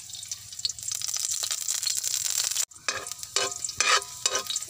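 Garlic and onion sautéing in cooking oil, a bright crackling sizzle with repeated stirring scrapes, briefly cut off midway before resuming louder with busy clatter.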